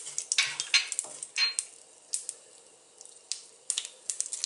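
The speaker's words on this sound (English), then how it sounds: "Going to first put the black mustard seed and wait till it splatters." Black mustard seeds crackle and splatter in hot oil in a pan, a run of sharp irregular pops and sizzling bursts, close and fairly loud with short quiet gaps between clusters.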